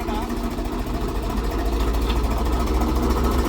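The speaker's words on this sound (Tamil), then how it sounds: "இந்த மிஷின் வந்து ஃபுல்லாக ஸ்டார்ட் ஆகி ஆர்பிஎம் வந்து டிராக்டர் இன்ஜின் ஆர்பிஎம் நல்லா ஃப்ரீ ஆகிருந்துங்க" A Swaraj 855 FE tractor engine runs a farm waste shredder and pulverizer, giving a loud, steady low diesel rumble that carries through the whole stretch without a break.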